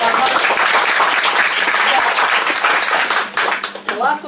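A studio audience at a talk show about media and literature applauds in a dense, steady burst of many hands, while faint voices rise toward the end.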